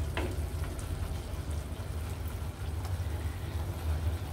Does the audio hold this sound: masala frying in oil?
yes